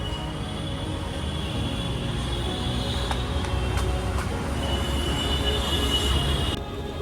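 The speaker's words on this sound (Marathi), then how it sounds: "आता आपल्याला जायचं आहे मेट्रोने" A Mumbai metro train runs along the track, a steady close rumble with a high metallic whine and wheel squeal rising near the end before the noise drops off.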